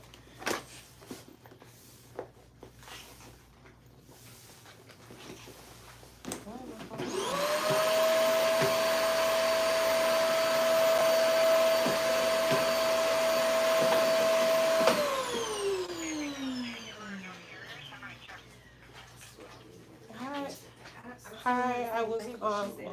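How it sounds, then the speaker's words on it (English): A tiny handheld vacuum cleaner, about the size of a quarter, used during home hair coloring, whirs steadily at close range for about eight seconds, then winds down as it switches off, with faint room noise around it. "the vacuum is like the size of a quarter"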